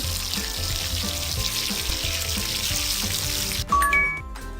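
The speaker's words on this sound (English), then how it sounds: "Shower time." Shower water in a kids' baby-care video game sprays as a steady bright hiss under light game music, then cuts off near the end, followed by a few short chiming effects.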